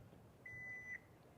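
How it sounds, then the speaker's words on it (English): A car's hands-free liftgate gives a single clear electronic beep of about half a second, thin and fairly faint against quiet background noise. "it's going to beep 3 times and then it will open"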